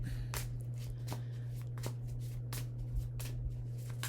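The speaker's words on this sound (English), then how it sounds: "I haven't shuffled it, so I'll shuffle it now." A deck of cards is shuffled close by, with quick papery riffles and soft slaps over a low steady hum.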